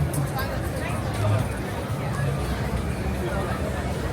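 Dense crowd babble fills Rockefeller Center in Midtown Manhattan during the Christmas tree holiday season, a steady, close hubbub of many overlapping voices on a street closed to traffic, with no single voice standing out.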